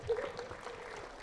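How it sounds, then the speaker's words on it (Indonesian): Brief applause for Anies Baswedan from the audience at a book fair discussion, a short, soft patter of clapping that starts abruptly and fades within about a second. "tepuk tangan buat Pak Anies"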